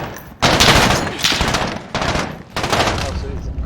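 SMG fire in Call of Duty Modern Warfare, loud sustained automatic bursts in four long volleys separated by brief gaps, close and dense.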